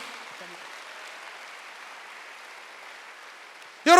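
A church congregation at a Wednesday worship service claps together in a soft, even patter that carries on steadily, ending in a brief sharp burst of louder noise.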